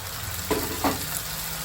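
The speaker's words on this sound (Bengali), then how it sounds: "এদিকে পেঁয়াজ আর রসুন ভাজা হয়ে গেছে আম্মু এখন এখানে সুটকির পানিটাও দিয়ে দিচ্ছে" Dried fish water poured over onion and garlic already fried in a pan to make bhorta, giving two quick bursts of loud sizzling over a steady background frying hiss.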